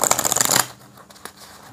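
Tarot cards being shuffled, a loud dense riffling burst at first, then fading to a few soft card taps and slides, close by with no talking.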